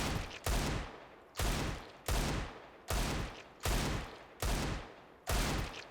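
Desert Eagle pistol shots in the CS:GO video game: seven loud, sharp gunshots fired at a steady rhythm about once every 0.7 seconds, each with a brief decaying tail, with no talking.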